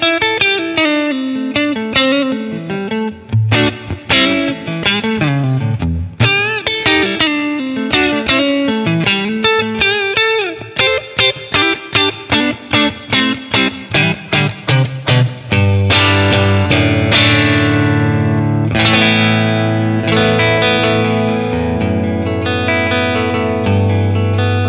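An electric guitar on the neck pickup plays clean, reverb-soaked chords and single notes through a Matchless Laurel Canyon amp. Rhythmic strummed passages give way to a long, ringing sustained chord. No voices are present.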